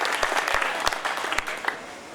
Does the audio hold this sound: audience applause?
yes